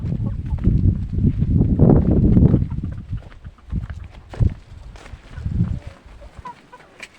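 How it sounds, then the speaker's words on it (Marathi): Hens in a farmyard, one settled in a hanging swing nest to lay eggs, cluck and cackle close by in uneven bursts before the clucking thins out toward the end. "चला तुम्हाला दुसरी पण एक कोंबडी दाखवतो झोक्यामध्ये बसलेली आहे अंड देण्यासाठी"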